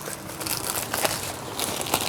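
Plastic wrap crinkles and rustles steadily as a new air sofa, doubling as an air bed, is unboxed, with soft crackling bursts repeating through the whole short stretch and no talking over it.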